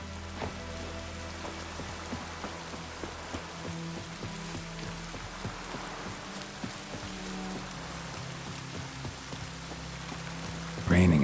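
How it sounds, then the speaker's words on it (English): Steady rain in The Witcher 3 patters on a surface, soft and continuous, with scattered drips, ending in a brief louder rustle. "Raining again."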